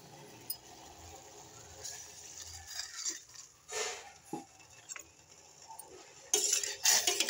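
A spoon stirs jaggery tea with milk and black pepper in a pot, giving scattered soft taps and clinks against the metal. A few louder scraping clatters come near the end.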